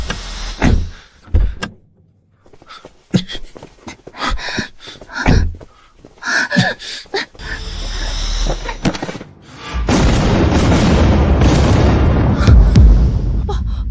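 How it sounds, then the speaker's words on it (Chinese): In a TV drama, a car explodes: first a series of sharp thuds and door-like clunks, then a loud, sustained roaring blast rumbles on for several seconds. "爆炸了！"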